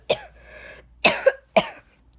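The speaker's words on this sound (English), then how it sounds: "I'm just coughing." A person coughs three times in quick succession, close and fairly loud, each a sharp harsh burst with short rasping tails, separated by brief quiet gaps.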